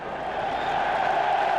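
Crowd cheering at a Leeds United versus Birmingham City League Cup semi-final as Swedish international Thomas Brolin appears, a brief steady roar of many voices from the stands.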